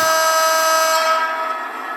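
A model railway locomotive sounds a horn from a digital sound decoder. The tone is a single loud, sustained, steady chord-like blare lasting about two seconds that slightly fades near the end.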